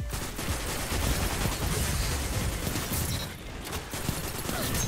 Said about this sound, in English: The guy's shooting behind me.